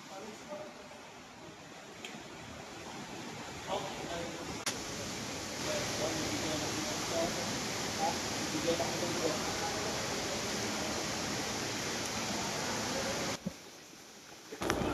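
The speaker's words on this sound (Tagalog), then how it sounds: "naririnig ko na ang bagsak ng tubig ng waterfalls" Steady broadband rushing of a waterfall inside a cave, constant and fairly close, filling the whole stretch before cutting off near the end.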